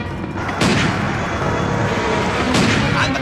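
Heavy gunfire and booming blasts in an Egyptian action film scene, with two loud bursts standing out over a continuous dense roar of shooting.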